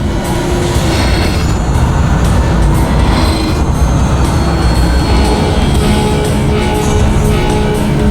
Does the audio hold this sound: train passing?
yes